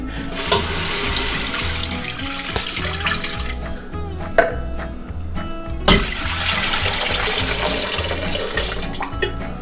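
Chicken broth from cans pours into a cooking pot, a loud, continuous gush and slosh of liquid with a couple of brief knocks, and no voices.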